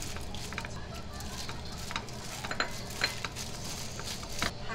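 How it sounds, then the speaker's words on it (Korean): Greens stir-frying in perilla oil in a pan, a steady soft sizzle with scattered clinks and scrapes of a utensil stirring, fairly faint and close, with no talk over it. "들기름 부어가지고 이제 볶아."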